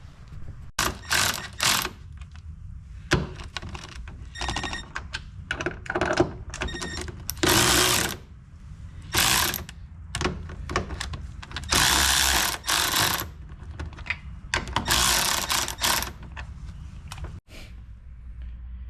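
A ratchet strap cinched down on an AGI roll cage in a Nissan Skyline GTR, heard as repeated sharp clicking bursts of the ratchet mechanism, in quick runs separated by short pauses, close and clear.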